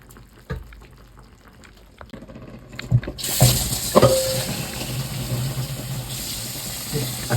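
Water pours into a cooking pot for okra vegetable soup, a steady running fill beginning partway in after quieter kitchen clatter, close and moderately loud.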